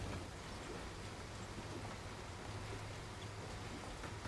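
Rain sweeps across the landscape in the video game Endzone - A World Apart, a dense, continuous wash of falling rain with a low rumbling undertone, steady and fairly loud throughout.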